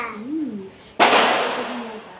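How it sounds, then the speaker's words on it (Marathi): A single sharp firecracker bang bursts outside a building during Diwali, decaying over about a second, while a voice speaks before and after it. "आज तुम्हाला आवाज येत असेल खाली बिल्डिंगच्या खाली खूप मुलं फटाके फोडत आहेत"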